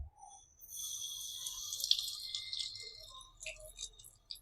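Tap water runs steadily over a paper banknote held under a faucet, a continuous splashing stream with small drips, fairly close and alone, with no talk.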